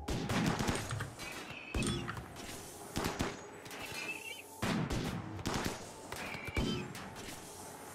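Gunfire in RimWorld on an extreme desert map, with a steady crackle of scattered small-arms shots and repeated louder volleys arriving every second or two, fairly faint overall, with no talking.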